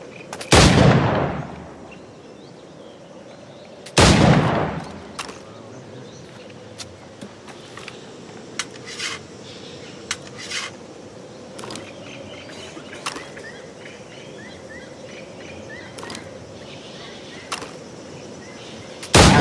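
Firearm shots in the pirate-era game Assassin's Creed Black Flag: two loud, booming blasts a few seconds apart, then quieter game ambience with scattered clicks and a final sharp shot at the end.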